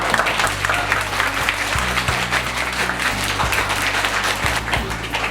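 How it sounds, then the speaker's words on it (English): A group applauds the completion of a well, the first project at a school for young children, with steady clapping over a background of low sustained tones. "Round of applause."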